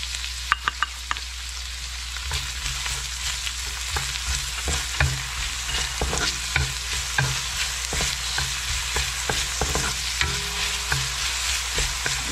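Garlic and onion fry in a pan for beef curry, a steady broadband sizzle running throughout with repeated sharp clicks of a utensil stirring against the pan, close and alone.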